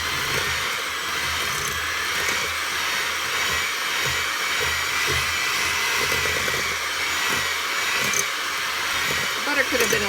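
An electric mixer whirs steadily at close range, blending slightly firm butter for pumpkin oatmeal cookie dough, a constant motor drone with a faint rumble underneath that runs the whole time.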